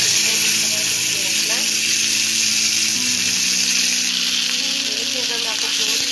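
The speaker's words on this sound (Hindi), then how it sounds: "मैं इनको थोड़ा सा देसी घी में फ्राई करूंगी" Chicken pieces frying in hot desi ghee in a pan, a loud, continuous close sizzle with someone talking faintly underneath.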